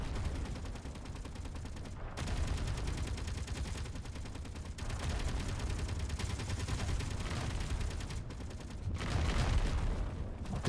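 Gatling turrets firing in the Space Engineers video game: dense, rapid streams of gunfire in long continuous bursts, broken by a few short pauses, steady and moderately loud.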